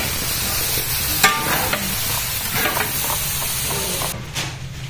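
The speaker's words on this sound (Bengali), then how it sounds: "দুপুরের মেনু বেগুন ভাজা।" Eggplant frying on a gas stove in a large kitchen, a steady dense sizzle and hiss with occasional clinks and scraping stirs, loud and continuous.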